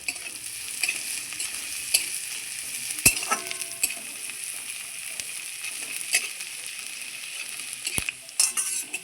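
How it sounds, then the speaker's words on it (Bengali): Chopped ginger and green chilies fry in hot oil in a pan, giving a steady, bright sizzle that is close and even, broken by a few sharp spatula clicks, with no voices. "এই যে আদাটা আমি কয়েক সেকেন্ড ভেজে নিলাম"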